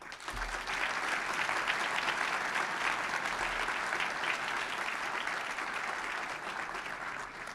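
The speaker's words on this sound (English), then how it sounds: "please, a round of applause." Thick, sustained applause fills a large hall at a city's State of the City address, many hands clapping in a continuous wash that holds steady throughout, with no voices over it.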